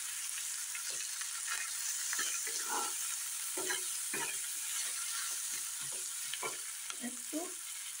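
Cumin and coriander powder fry in hot oil for an egg potato curry, a steady sizzle with repeated soft scraping stir strokes throughout, close and moderately loud, with no talking.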